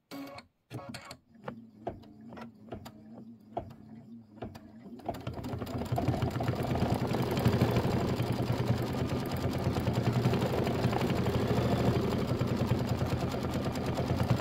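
An embroidery machine stitches out eyelets for a Kimberbell nativity bench pillow: a few separate clacks, then a steady loud rapid chatter of the needle running on continuously, close up.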